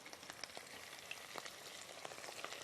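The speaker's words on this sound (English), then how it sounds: "put your chicken tenders in there" Breaded chicken tenders frying in hot oil give a steady, close crackling sizzle with scattered sharp pops, and no voices.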